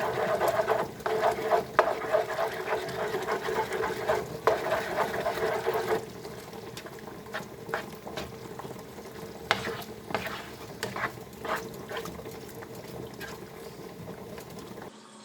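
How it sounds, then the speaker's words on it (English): Pepper steak simmers in a pan with a soft, crackling bubble, small pops and spatters scattered over a low hiss, louder at first and then quieter. "We just keep this simmering."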